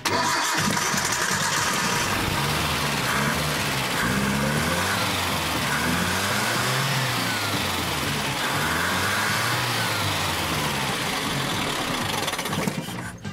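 A small engine starts and keeps running, a loud, close, continuous mechanical roar with uneven pulsing as it struggles to idle.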